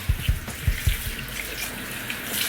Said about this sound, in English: And now I'm just gonna wash the wig.